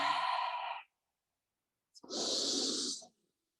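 Deep, slow breathing during a yoga flow: a long audible exhale, a pause of silence, then another full breathy exhale, close and clear with no talking.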